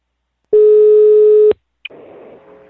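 A telephone line gives a single steady electronic tone for about a second as a call is placed, then a click and a faint, hissy line noise follow.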